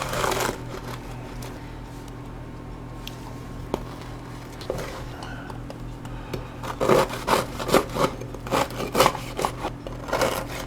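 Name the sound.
knife cutting cooled focaccia bread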